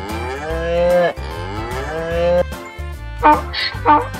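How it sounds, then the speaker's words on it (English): A cow moos twice in long, drawn-out lows, followed by short clanks, all over a steady musical accompaniment. "Cow,"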